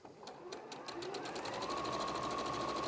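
A sewing machine runs at steady speed, its rapid even needle clatter holding a constant whine while joining rows of stitching.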